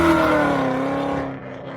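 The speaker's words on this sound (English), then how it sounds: "You can rev it, but not like." A 2017 Ford Mustang engine revs nearby in a strong, tonal roar that holds and then tapers off within a couple of seconds, heard alone without talk.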